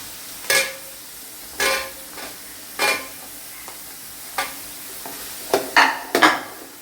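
Shallots frying in a pan for a Kerala-style beef curry, with a spatula scraping and stirring in separate strokes about once a second over a faint, low sizzle. No one speaks.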